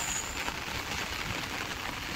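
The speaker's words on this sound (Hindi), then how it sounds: "देख सकते हैं कितना ज्यादा बारिश हो रहा है" Heavy rain pours down during a village flood, a dense, unbroken hiss with no pauses and no voices heard.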